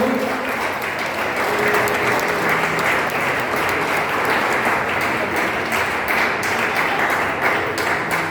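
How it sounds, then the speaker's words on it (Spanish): Church congregation at a Spanish-language worship service applauds loudly and continuously, a dense sustained roar of many hands clapping that fills the room. "Denle un fuerte aplauso al Señor."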